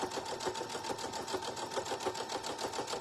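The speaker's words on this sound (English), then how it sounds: "just sew a straight seam right down the center of all of these" A sewing machine stitches a straight quilting seam down a patriotic rag table runner, its fast needle chatter pulsing in an even, continuous rhythm up close.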